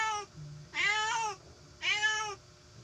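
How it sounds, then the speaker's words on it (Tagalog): A house cat meows indoors: one short call, then two longer, drawn-out meows spaced about a second apart, close and fairly clear over quiet room noise. "Pasensya nyo na guys yung pusa."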